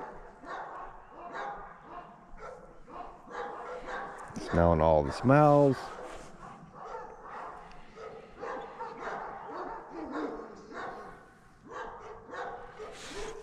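A big, strong dog lets out a short burst of loud barks and yips in the middle, while people talk quietly before and after.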